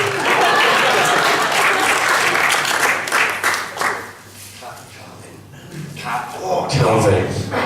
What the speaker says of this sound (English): let's have a round of applause for me